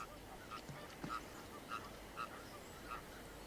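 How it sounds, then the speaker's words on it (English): Goosanders from the far north calling on the Rhine in winter: a few short, faint nasal calls spaced about half a second apart over quiet outdoor background, with no talk. "And these goosanders from the far north."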